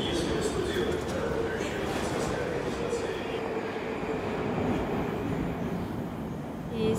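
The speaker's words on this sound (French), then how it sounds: "Quand on prend le métro à Moscou" A Moscow metro train rumbles steadily throughout, a dense continuous roar of wheels and carriage noise with a faint voice buried underneath.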